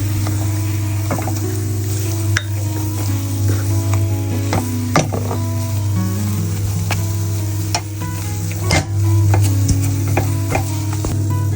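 Banana halwa with cashews and pistachios is stirred in a pan: a continuous thick sizzle with a steady hum, punctuated by scraping and tapping of the spoon against the pan.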